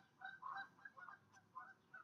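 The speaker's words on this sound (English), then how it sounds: "if you didn't hear that, those are geese." Several geese honking in short repeated calls, faint and somewhat distant, in an otherwise quiet setting.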